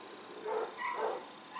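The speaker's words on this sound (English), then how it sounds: "the dogs are barking" Dogs bark in the background at a house, a few short muffled barks at moderate distance in quick succession.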